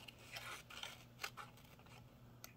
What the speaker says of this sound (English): I'm going to go ahead and fussy cut this out